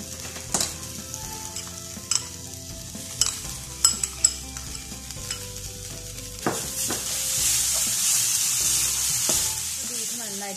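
Minced cooked beef cutlet mixture is stirred in a hot pan, giving a sizzling hiss broken by sharp scrapes and clacks of the spoon against the pan, with the sizzle swelling louder near the end.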